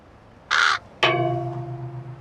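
Two loud, close crow caws: a short harsh burst, then after a brief pause a longer raspy caw that fades out slowly, alone with no talking.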